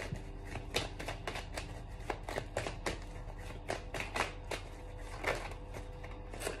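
Oracle cards are shuffled by hand in quick, repeated riffling bursts, close and fairly quiet, with a soft irregular rhythm of flicks and slaps and no talking.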